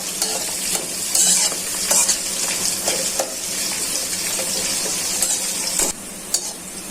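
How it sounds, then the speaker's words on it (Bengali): Chopped onion sizzling in hot oil with a steady bright hiss, punctuated by frequent scrapes and clinks of a stirring spoon against the pan, close up and without speech. "তেলটা ভালো করে পেঁয়াজ কুচিগুলো দিয়ে দিচ্ছি। ভালো করে পেঁয়াজটা বাইজা নিই।"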